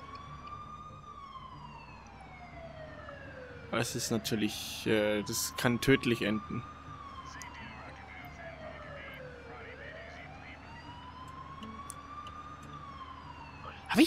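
Emergency vehicle sirens wail in SimCity 4 Deluxe city gameplay, long rising and falling tones sweeping steadily through the whole stretch, with someone talking briefly in the middle over game sounds.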